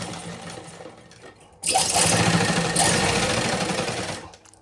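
An electric sewing machine stitches cloth at a tailoring class. It starts after a quiet moment and runs fast and loud for about three seconds as one continuous whirring burst, then winds down.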